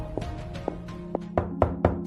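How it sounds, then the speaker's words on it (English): Knocks on a wooden door at an inn at night, eight sharp raps in an uneven series, starting spaced and quiet and then coming faster and louder in a final cluster, heard alone over a low steady hum. "I took his dagger and went to knock on Madame Francis's door"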